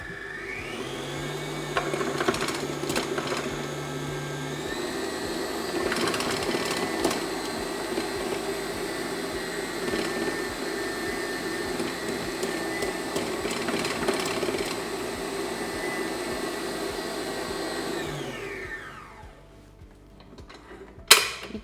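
An electric mixer beats a buttery dough base, making a steady whirring hum with small rattles. It runs for about eighteen seconds and then winds down and stops, with no talk.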